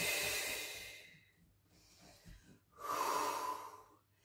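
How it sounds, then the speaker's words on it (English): Breathing during a big-ball exercise class: a long, airy exhale, a quieter pause, then another strong breath, close and clear with no talking. "You inhale, let it go. And exhale and pull it up close."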